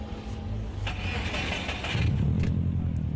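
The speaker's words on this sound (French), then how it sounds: "vous pouvez démarrer le moteur?" A modified car's engine starts at a car meet in Ferrières, France, catching and settling into a steady, loud, rumbling idle that grows slightly heavier toward the end, with no talk over it.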